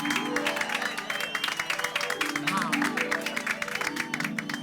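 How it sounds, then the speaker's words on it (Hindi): Clapping from a group of housing-society residents honoring their teacher, a dense, lively patter of many hands over a bright, sustained music bed. "भाई हमारी सोसाइटी के आदरणीय शिक्षक महोदय के लिए एक बार जोरदार तालियां हो जाए।"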